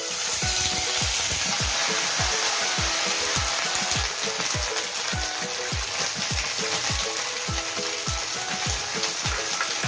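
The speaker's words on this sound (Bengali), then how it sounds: "ফোড়নটা বেশ ভেজে দিচ্ছে এবার যে আদা পেস্টটা ছিল এই আদা পেস্টটা দিয়ে দিচ্ছি" Ginger paste hits hot oil already tempered with dried red chillies for hilsa fish head and taro leaves, a loud, constant sizzle broken by a steady, rhythmic series of spatula strokes against the pan.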